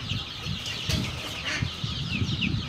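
Young duck and chicken chicks peep constantly in a crowded, close chorus of high chirps, with a few lower clucking sounds beneath.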